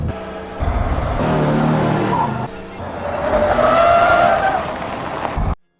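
A car in a horror movie chase skids and screeches to a stop, a loud engine roar with squealing tires across two surging bursts, ending abruptly in silence.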